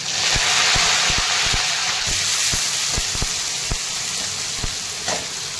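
Mustard seeds, cumin and curry leaves crackle and sizzle in hot oil for a Maharashtrian farsan dry vegetable dish, a loud continuous frying hiss punctuated by sharp popping spatters, close up with no talking.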